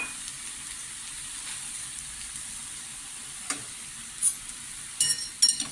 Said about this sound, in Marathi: मिक्स करून घेते